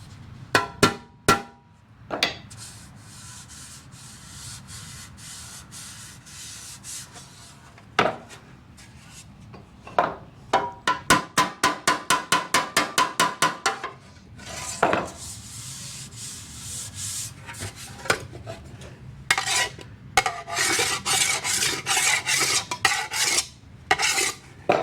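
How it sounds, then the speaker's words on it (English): Sanding strokes scrape white paint from a 1975 250B MX motorcycle fuel tank, a rough rasping rub with bursts of quick repeated strokes and short pauses, close and fairly loud, no talk. "sand on this. Try to get all this white paint off there."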